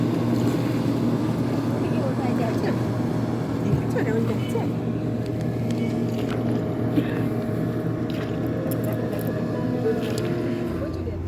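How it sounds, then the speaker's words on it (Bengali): A speedboat carrying passengers on a reservoir at Maithon runs with a steady engine drone mixed with water and wind noise, heard from the shore with people talking over it. "ওই যে কি যাচ্ছে এটা দেখ। বাহ বাহ বাহ স্পিড বোট।"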